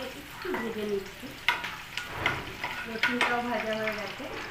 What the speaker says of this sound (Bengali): পেঁয়াজ কুচিটাকে একটু ভেজে নিচ্ছি